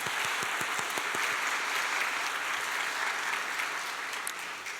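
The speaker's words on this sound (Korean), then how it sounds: "한번 우리 박수 한번 치겠습니다" A church congregation claps together during a worship service, a dense and even applause with a few sharp low knocks near the start, steady throughout and fading slightly at the very end.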